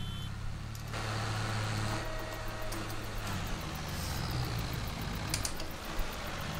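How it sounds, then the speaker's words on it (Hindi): A tractor engine in Farming Simulator 22, running in a low first gear and hauling a loaded trolley, gives a steady low rumble throughout, with faint beeps and clicks over it and no voices. "पहला हाई में तो भाई बुड़क के चल रहा है पूरा ट्रैक्टर।"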